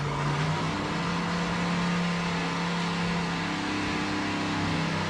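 A Corvette drag car with a huge 14-71 supercharger idles at the staging line at the 1991 ANDRA Drag Racing Nationals, giving a steady, loud mechanical drone with a strong low hum and no breaks. No speech is heard.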